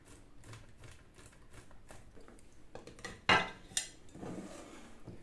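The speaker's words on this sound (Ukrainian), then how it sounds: "Тепер нам потрібно натерти ковбасний плавлений сир. Натираємо на крупну отаку тертушку." Processed smoked sausage cheese rubbed against a coarse grater, giving soft, rhythmic scraping strokes with a couple of sharper clinks of the grater against a bowl near the end.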